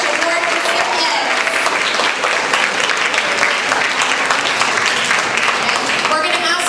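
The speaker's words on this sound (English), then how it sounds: "Let's give a big round of applause for our first group of Fairchild Challenge Award recipients." A crowd at a middle school awards ceremony gives steady, loud, dense applause for a group of Fairchild Challenge award recipients, sustained evenly for several seconds with a few voices mixed in.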